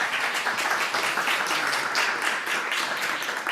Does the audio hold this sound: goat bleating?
no